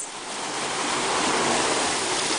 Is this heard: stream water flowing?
yes